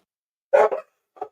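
A dog barks once loudly and close, a two-part bark followed by a shorter, quieter yip after a brief pause, against otherwise silent surroundings.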